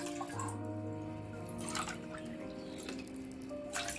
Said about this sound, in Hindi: इसीलिए 2 कप पानी डाल रही हूँ।